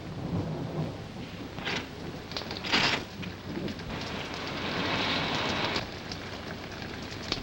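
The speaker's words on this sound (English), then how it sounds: "I think it would be foolish to go out in such a storm." A heavy rain storm in a 1942 horror film pours down steadily while rolling thunder swells and rumbles in loud bursts, with no talking.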